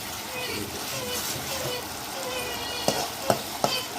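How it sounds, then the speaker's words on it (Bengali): Spice paste for fish curry sautés in oil with a steady, close sizzle that runs throughout. A few sharp clicks of stirring come near the end. "তো মশলাটা ভালো করে একটু কষিয়ে নেবো, মানে তেল ছাড়া একটু কষিয়ে নেবো"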